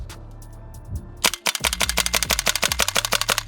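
A WE Tech AK74UN steel gas blowback airsoft rifle fires BBs in a fast burst of sharp, loud cracks with clacking bolt cycling, preceded by a few quieter clicks and mechanical handling noises.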